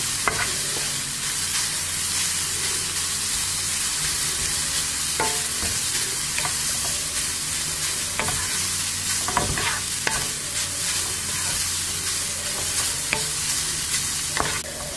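Grated carrot sizzles and fries in a pan for carrot kheer while a spoon stirs and scrapes steadily, a continuous close crackle with occasional clinks of the utensil against the pan, no talking.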